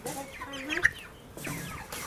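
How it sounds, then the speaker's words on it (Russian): A lone hen strays from the flock and clucks in short, close, quiet bursts with a brief louder squawk in the middle. "Так, курица тут одна."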